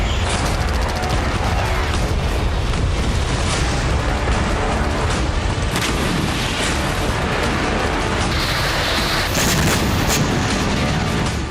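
Explosions from an attack on the Balaklava thermal power plant near Sevastopol, Crimea, heard as a loud, continuous barrage of dense booms and crackling bursts, with some heavier blasts standing out near the end and no voices.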